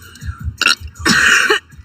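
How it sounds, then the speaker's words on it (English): Friends chatting on a livestream while a girl lets out burps: two loud, drawn-out belches, one short and one longer, close to the mic, with faint background chatter between them. "Okay, we all burp."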